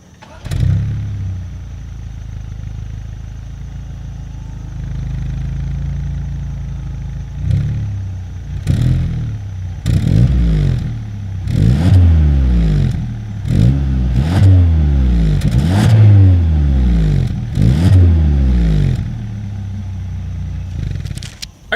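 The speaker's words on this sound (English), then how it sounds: "As always, here is that exhaust clip." A 2022 Hyundai Sonata N Line sedan idles through its dual exhaust, then revs repeatedly in loud, rising and falling blips before settling back to a low idle.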